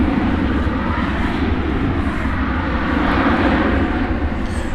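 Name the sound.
American Airlines Airbus A321 departing DFW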